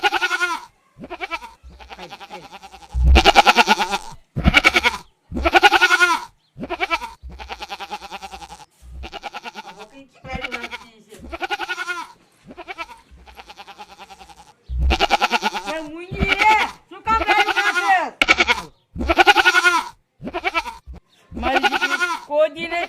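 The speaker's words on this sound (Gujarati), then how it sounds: "બકરી ખાઈ લે ખાઈ લે." A goat bleats repeatedly at close range, with loud wavering cries in short bursts separated by brief pauses, mixed with a person speaking nearby.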